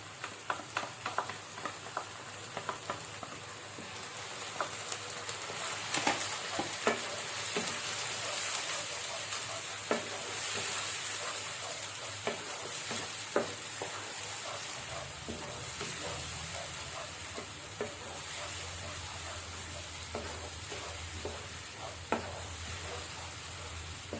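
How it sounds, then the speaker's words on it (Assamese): Ginger, garlic and onion paste sizzles and crackles steadily in a pan with browned onions, with occasional stirring scrapes over a continuous frying hiss. "এতিয়া মই ইয়াত দিম আদা, নহৰু আৰু পিঁয়াজৰ পেষ্টটো দি দিম ইয়াত মই এতিয়া।"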